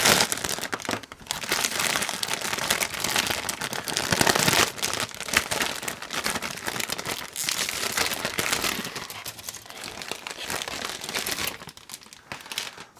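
A plastic bag from a Meng 1/72 M2A3 Bradley model kit being opened, with loud, close crinkling and rustling of plastic going on steadily throughout.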